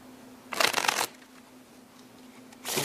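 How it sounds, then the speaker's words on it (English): Playing cards are given a riffle shuffle, a close, crisp burst of rapid fluttering for about half a second, followed by a quiet pause and a second riffle starting at the end. "give them a riffle shuffle like that"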